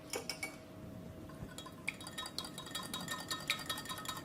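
A whisk beats an egg in a bowl with a rapid, steady run of light metallic clinks and taps, close by and continuous.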